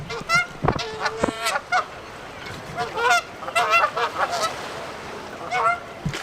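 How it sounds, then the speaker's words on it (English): Geese honk in repeated loud, nasal bursts close by, several birds calling in irregular clusters over faint outdoor background noise. "before these geese start to attack me"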